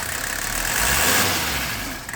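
A 1984 Mercedes-Benz 300SD W126 diesel engine gets a light blip of throttle, its loud, close clatter swelling briefly and then easing back toward idle.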